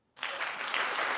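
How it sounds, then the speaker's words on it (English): Applause from a podcast audience marks a gifted membership being announced, bursting in sharply after a brief silence and holding steady as a dense, even wash of clapping. "Applause there"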